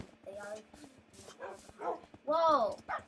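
Dogs bark in a Minecraft race, a string of short yips and woofs at moderate volume with one louder, drawn-out bark near the end, mixed with voice-like sounds.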